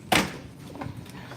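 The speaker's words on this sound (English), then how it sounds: "Let me get the door. It swings open," A hospital room door swings open with one sharp thud near the start, followed by quiet room noise and faint shuffling.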